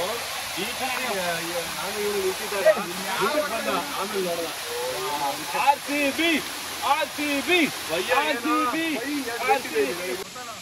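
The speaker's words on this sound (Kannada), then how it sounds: "ನೇತ್ರಾವತಿ ನದಿ ಕಣ. ಇದೇ ಕಣ ಫಸ್ಟ್ ಫಾಲ್ಸು." A monsoon waterfall on the Netravati river in the Western Ghats of Karnataka rushes in a constant broad roar beneath people talking throughout.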